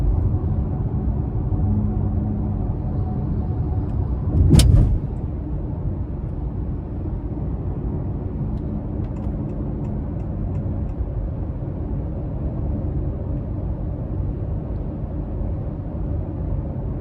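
A 2026 Honda CR-V Hybrid Trailsport cruising under light throttle, heard from inside as a low, steady cabin rumble and road hum with one brief thump near the start, otherwise quiet and even.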